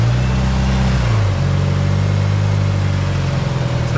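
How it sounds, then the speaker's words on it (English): Mitsubishi Evo 8 with a Link ECU, its engine idling loud and close, then given a short rev that lifts the pitch before it settles back into a steady rumble. "I give it a little rev."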